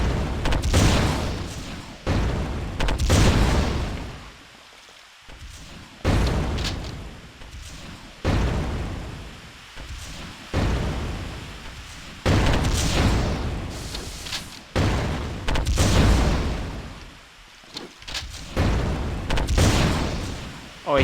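Repeated heavy booms from rocket launcher blasts in the 2016 FPS Creator X10 shooter Space Warrior, loud bursts arriving in uneven clusters with brief quieter gaps between them, no talk over them.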